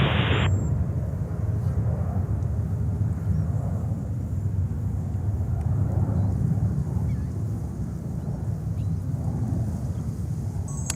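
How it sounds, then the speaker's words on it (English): An Air India Airbus A350-900 takes off at JFK as a constant, heavy jet rumble with a distant roar, steady and unbroken, after a brief high beep at the very start. "Air India 350-900 on the way to Delhi."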